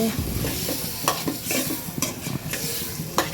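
Potatoes are stirred into spices in a pan for a rohu fish and potato curry, giving a loud, continuous sizzle with repeated scraping and knocking of a spoon against the pan.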